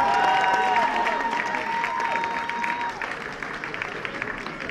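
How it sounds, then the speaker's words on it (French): An audience applauds a competitor at a competitive evening event, a dense wash of clapping that starts strong and gradually thins, with cheering and a voice heard beneath it. "Vous pouvez également applaudir Inès Benabella."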